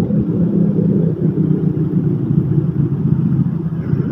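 An engine-powered winch hauls in a fishing net on the beach at Pangandaran, giving a loud, steady, close low rumble that holds constant throughout with no talk.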